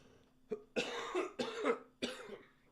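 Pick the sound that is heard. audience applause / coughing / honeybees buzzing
coughing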